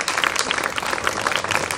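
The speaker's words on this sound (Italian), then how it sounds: "l'applauso stava partendo e lo accettiamo tutto" An audience applauds at a literary award ceremony in Anguillara Sabazia, a brief burst of steady, dense clapping from a crowd indoors.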